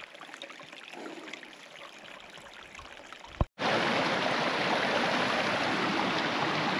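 Clear water streaming along a wet hiking trail in Sweden on a moody day, a steady close rushing burble that grows louder and fuller after a brief dropout midway, with no talking.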